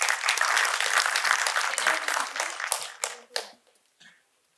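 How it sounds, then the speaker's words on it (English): A crowd claps loudly and steadily, then the applause thins out and trails off into a few last scattered claps before silence. "Big round of applause, guys."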